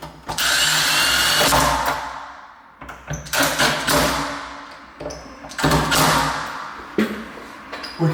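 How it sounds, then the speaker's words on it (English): A power drill drives screws into a door handle's mounting plate during a door knob repair, with several loud close bursts of whirring, each start and stop sharp and separated by brief pauses. "then we'll follow through with the drill"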